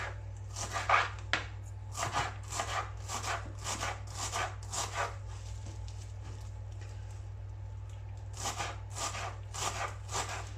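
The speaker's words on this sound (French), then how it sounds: "je vais hacher ma coriandre que je vais incorporer" Fresh coriander being chopped with a knife on a board, a run of quick rhythmic cutting strokes in bursts with a pause midway, close and clear over a steady low hum.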